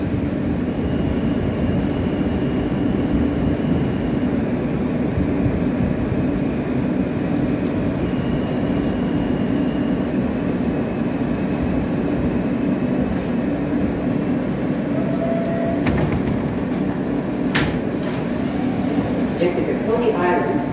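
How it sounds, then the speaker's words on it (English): Steady loud rumble and rattle of a New York F local subway train in motion, a constant roar with occasional squeals and clanks. "This is a Coney Island, Stillwell Avenue bound F local train."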